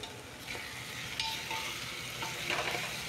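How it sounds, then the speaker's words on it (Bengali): A masala of onion, two chopped medium tomatoes, four or five green chillies and salt fries quietly in a pan for a chicken dish, with a soft steady sizzle and occasional scraping stir strokes. "সব কিছু দিয়ে মশলাটাকে একটু কষিয়ে নিচ্ছি।"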